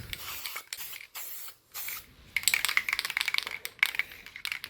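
Aerosol spray paint is applied to the exhaust of an Alfa Romeo 147 GTA in short hissing bursts. Rapid rattling and ticking from the can follow, fairly close.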